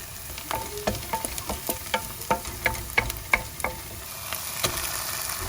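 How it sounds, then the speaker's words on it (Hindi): Chillies and coriander frying in hot oil with curry leaves for misal, a soft continuous sizzle punctuated by rapid crackles and small pops, close up with no voices. "अब डालेंगे मिर्ची, इसको हमने गोल्डन ब्राउन करना है"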